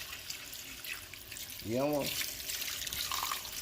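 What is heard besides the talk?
pouring purified water into oxtail pot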